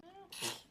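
A single sharp sneeze, close by, following a brief breathy intake.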